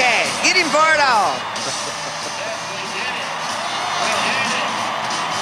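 A rodeo crowd at the Thomas and Mack arena roars and whoops, loud at first with shrill yells, then settling into a sustained wash of distant cheering.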